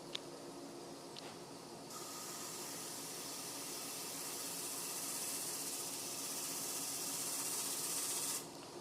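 A steady whirring hiss of a wood lathe spinning at about 1,000 rpm rises after a couple of seconds and runs continuously, then drops off near the end.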